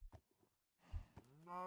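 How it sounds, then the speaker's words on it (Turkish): Minecraft cows mooing in the game world, a few short low calls and then a longer, louder drawn-out moo at the end, with quiet gaps between. "Ha, inek dolu burası."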